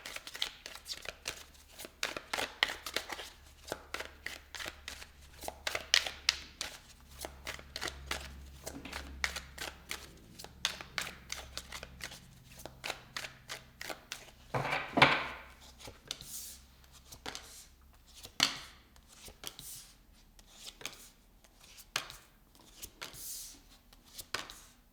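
A deck of tarot cards shuffled by hand in repeated riffles and slides, a dense, crisp, papery patter running for the whole stretch with short pauses and occasional sharper snaps, close-up and moderately quiet.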